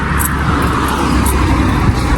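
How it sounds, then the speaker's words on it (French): Steady car traffic rolling along a sunny street, a loud, close broadband road rumble with a constant wash of engine and tire noise and no clear break between passing vehicles. "Il y a beaucoup de voitures."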